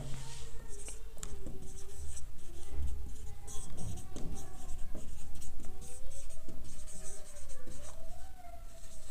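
A pen scratches across paper as a heading is written, giving steady close scribbling strokes with short pauses and a faint tonal hum in the background.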